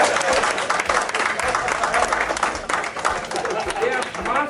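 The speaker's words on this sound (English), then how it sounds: "Give him that clap too." A community committee meeting audience in Bayview Hunters Point claps for several seconds, a dense, loud wash of applause with a few voices mixed in.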